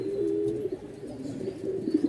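Pigeons coo in a low, continuous, throaty murmur close by, steady throughout with no talk over it.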